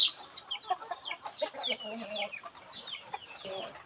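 Several young chickens cluck and chatter close by, a busy, overlapping flock of breeder hens with short rising calls and no talking.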